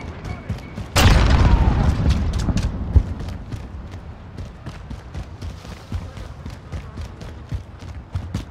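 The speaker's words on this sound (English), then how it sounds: "Grenade out!" Grenade explosion in Call of Duty Modern Warfare multiplayer Headquarters mode: one loud booming blast with a long rumbling tail, followed by scattered gunfire and clattering battle noise.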